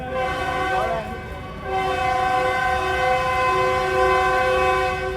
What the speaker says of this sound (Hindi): डिपार्चर विसल दे रही है जी ड्राइवर साहब ने।